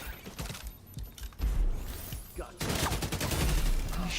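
Rapid bursts of gunfire from The Division video game crackle in clustered volleys, growing denser and louder in the second half, with a little background game noise.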